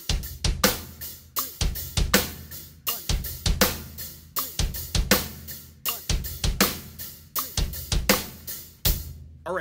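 Drum kit groove with double bass drum sixteenth notes played with an unwanted swing, lopsided kick pulses under sharp snare and cymbal hits, loud and close, repeating through the whole passage with no talking.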